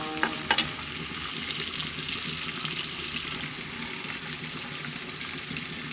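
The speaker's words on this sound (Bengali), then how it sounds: "চিংড়ি মাছগুলো একটু তেলে ভালো করে ভাজবো, যেন চিংড়ি মাছটা পুরোপুরি তেলে ভাজা হয়ে যায়" Shrimp frying in oil in a pan, a continuous close crackling sizzle with a couple of sharper pops near the start and no voices over it.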